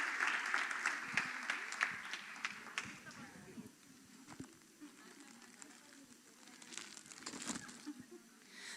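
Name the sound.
audience applause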